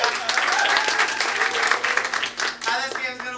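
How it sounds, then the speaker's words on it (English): Audience applause at an improv comedy student showcase, a burst of clapping from a small crowd that fades over a few seconds, with voices talking over it. "Round of applause for Rachel, who will be conducting this."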